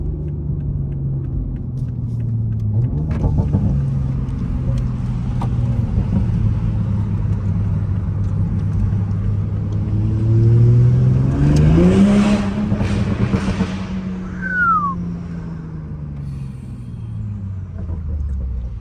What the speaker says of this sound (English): That turbo be sounding loud too.